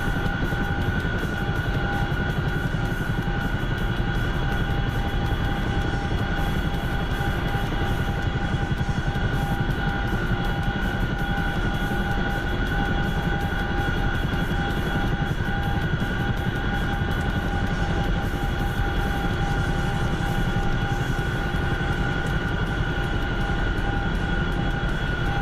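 A video game aircraft lands on sand, giving off a constant, steady engine roar with droning tonal whine throughout and no voices.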